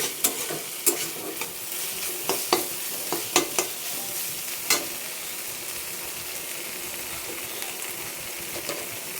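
Mocha (banana flower) curry stirred in a pan with ghee and garam masala, scraping and light sizzling at close range, with sharp clicks of a utensil against the pan scattered through it; no one speaks.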